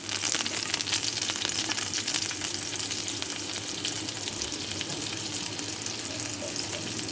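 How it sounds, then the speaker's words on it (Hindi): Butter melting into oil in a frying pan, a steady fine crackling sizzle that stays constant and fairly close for several seconds, with no speech over it. "1 टेबल स्पून मैंने ऑयल डाला है फ्राई पैन में और ये मैंने थोड़ा सा मक्खन डाला है।"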